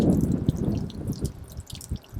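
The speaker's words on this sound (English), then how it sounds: "So this water tank carries 10 gallons in it, so you can see there's a lot of water trying to come out." Water draining from a 10-gallon hot water heater tank, sputtering and dripping in irregular bursts close by with gurgling splashes.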